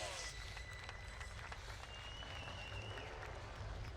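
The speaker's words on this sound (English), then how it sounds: "give him a round of applause" Applause and crowd noise at a professional drifting competition roll along steadily in the background. The sound is distant and fairly faint, with no clear single claps.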